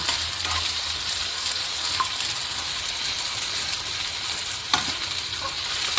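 Diced potatoes fry with egg and spices in a pan, giving a steady, close hiss of sizzling oil with faint stirring clicks throughout and no talk.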